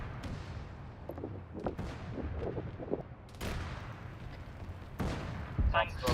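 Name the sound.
autocannon and gunfire in video game Arma 3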